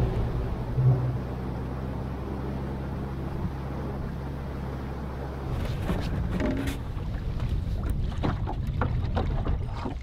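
A boat motor hums low and steady while idling through Everglades waters, then gives way to splashing water and wind buffeting the microphone.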